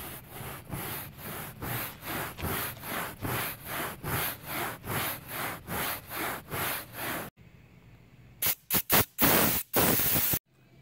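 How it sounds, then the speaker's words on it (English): A semi-soft bristle brush scrubs old crumbling foam off a Jeep headliner in quick, even rhythmic strokes, then pauses before a few harder, louder brush passes. The scraping is close, and no one speaks. "the best way I find is use like a just a kind of a semi-soft bristle brush"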